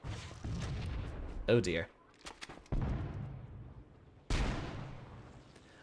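Rocket explosions in Halo: Combat Evolved boom in several heavy blasts, each decaying over a second or so, near and loud. A short spoken exclamation comes between them.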